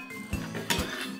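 Chopped dill and onion tipped into a kitchen bowl for artichoke dolma filling, giving two short clinks of the bowl close by, with no talk.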